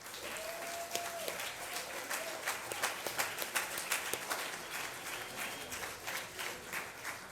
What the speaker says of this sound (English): Please give these Colonel athletes a nice round of applause.